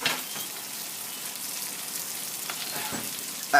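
Chicken breast stuffed with camembert sears steadily in a hot pan, giving a continuous close sizzle and crackle with no break for several seconds.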